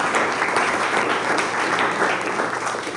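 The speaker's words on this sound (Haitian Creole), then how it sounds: "Maintenant, nous pour applaudir le docteur Réginald Fils-Aimé." Steady, dense applause from a workshop audience greeting a career panel speaker, a continuous wash of many hands clapping at even loudness throughout, with no talking over it.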